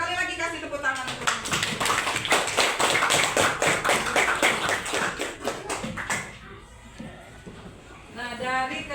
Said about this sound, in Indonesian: Sekali lagi kasih tepuk tangan untuk